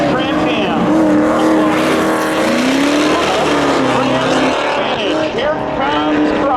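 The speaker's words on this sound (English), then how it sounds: "1986 Pontiac Firebird going up against in that 1994 Pontiac Trans Am." A 1986 Pontiac Firebird and a 1994 Pontiac Trans Am drag race at a speedway, loud engines roaring and revving close by with rising pitch sweeps, under an announcer's continuous commentary.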